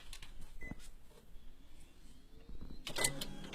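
Ballot sliding into a PCOS voting machine, a soft mechanical feed with a brief whirring motor and clicks near the end, heard close up against quiet room noise.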